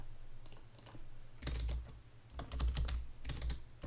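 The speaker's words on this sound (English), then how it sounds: "I'll write my email address right now. I have to make a password." Close clatter of keys on a computer keyboard as an email address and password are typed, irregular bursts of quick taps with short pauses between, fairly quiet and without voices.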